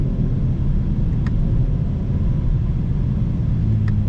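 A 2025 BMW M4 Competition on new tyres, still in break-in, drives through heavy traffic with a constant low exhaust rumble and road drone, steady and close throughout.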